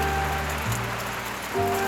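Monsoon rain pours steadily on Harishchandragad at night, a dense even hiss with a low droning hum underneath that shifts pitch twice.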